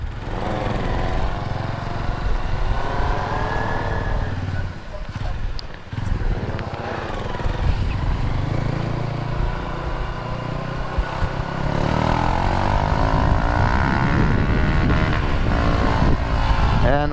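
A Honda CG 150 motorcycle with a broken clutch runs with its engine chugging, surging and idling unevenly up close, with a few rougher revs along the way.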